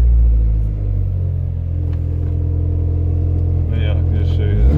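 A car engine rumbles low and steady while driving, with a few mild revs rising through it. A person talks over the drone the whole time.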